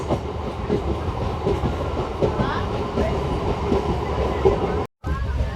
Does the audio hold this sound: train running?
yes